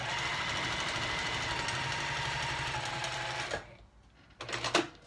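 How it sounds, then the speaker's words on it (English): A Juki TL-98Q sewing machine stitches fabric in a fast, steady mechanical chatter, close and loud, then stops abruptly and gives a short burst of stitching again after a pause. "sewing with a Juki TL-98Q"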